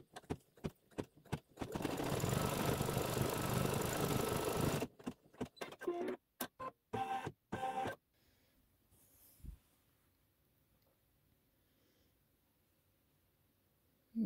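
An embroidery machine stitches a satin edge on a Santa's Workshop quilt block: a few sharp clicks, then a steady loud whirring run of about three seconds, then several short stop-start bursts before the room falls nearly silent.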